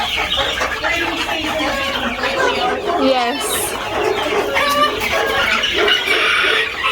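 English Orpington chickens cluck and chatter in a busy, continuous flock, with people talking over the birds throughout.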